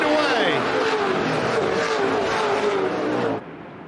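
Open wheel modified race cars roar together at the green flag start, a dense wall of rising engine pitch with a commentator talking over it, cutting off abruptly near the end.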